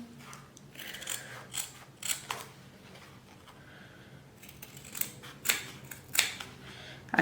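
Scissors snip through fabric lining along a drawn line, giving short irregular clicking cuts and blade rasps, close and quiet with no voices.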